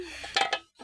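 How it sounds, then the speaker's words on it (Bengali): A wok is set onto a home stove after a pan of boiled milk is taken off, giving two quick metallic clanks close by, then a brief scrape. "এখন এই যে কড়াই বসাই দিলাম"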